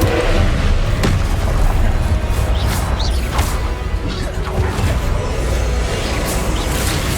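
The Confringo explosive spell blasts during combat in the Hogwarts Legacy video game, its booms and crashes sitting inside a loud, continuous din of battle effects.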